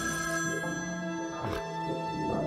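A telephone rings in the video game Shivers 2, a steady sustained bell tone over a faint background.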